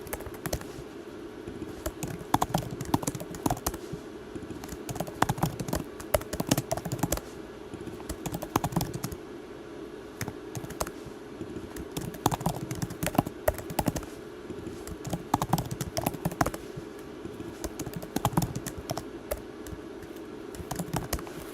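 Fast typing clatters on a computer keyboard in rapid bursts of close, crisp keystrokes that run steadily for about twenty seconds, with brief pauses and no speech.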